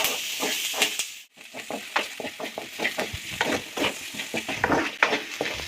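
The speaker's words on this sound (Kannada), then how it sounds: "ಈರುಳ್ಳಿ ಲೈಟ್ ಬ್ರೌನ್ ಹಾಕ್ತಿದ್ದಂಗೆ ಗೋಡಂಬಿ ಬಿಟ್ಟು ಶುಂಠಿ ಬೆಳ್ಳುಳ್ಳಿ ಹಾಗೂ ಚಕ್ಕೆ ಲವಂಗ ಹಾಕ್ಕೊಳ್ಳಿ. ಇದಷ್ಟು ಪೂರ್ತಿ ಫುಲ್ಲು ಬ್ರೌನಿಷ್ ಆಗೋವರೆಗೂ ಹುರ್ಕೊಳ್ಳಿ" Onions, ginger, garlic, cinnamon and cloves fry for a chicken korma, making a continuous, fairly loud sizzle broken by constant quick scrapes of stirring and a brief pause early on.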